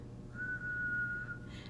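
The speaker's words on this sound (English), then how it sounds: "it's just the whistle method" A single steady whistled tone held for about a second, close and fairly quiet, with a soft breathy tail at the end.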